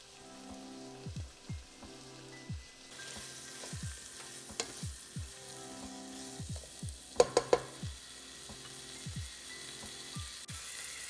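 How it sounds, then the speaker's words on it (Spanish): Onion frying in melted butter over medium heat, a steady soft sizzle broken by repeated low scraping stir strokes and a few sharp clinks of a utensil against the pan. "Seguidamente voy a agregar la cebolla para cristalizarla"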